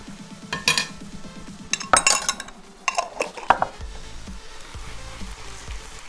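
A spoon clinks and scrapes in a frying pan as tomato paste is stirred into shakshuka, the Israeli egg dish, with quick metallic clatter and soft sizzling underneath, close and alone.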